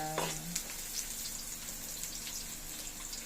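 Ginger sautéing in a hot pan for dinuguan, a steady soft sizzle with a few light clinks and stirring scrapes near the start.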